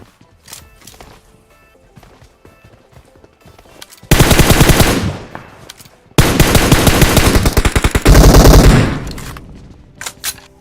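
Rapid automatic gunfire in a shooting video game, loud dense bursts starting around four seconds in, a second longer volley after a short gap, with quieter scattered shots before and after.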